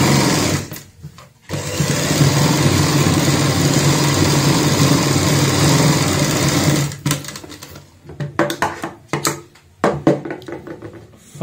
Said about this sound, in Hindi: अब यहाँ पे भी हम ऊपर से सिलाई लगाते हैं।